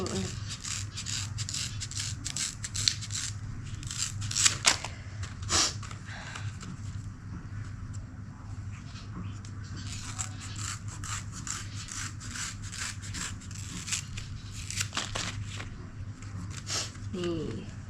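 Rapid, irregular scraping and snipping of bamboo strips being cut close by in rural Laos, over a steady low hum.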